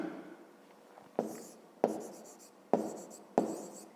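Pen writing by hand on paper while working a fifth-grade maths exercise, four separate bursts of quiet scratching strokes close up, each starting sharply and trailing off, in a hushed room.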